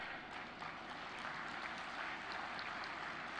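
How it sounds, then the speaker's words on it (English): Distant, fairly faint applause from an audience at a maritime achievers valedictory session, a steady wash of clapping with no one speaking. "Please clap your hand."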